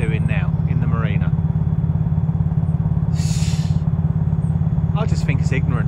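A boat engine in a marina gives a loud, steady drone with a deep pulsing throb throughout, close by, while someone talks over it.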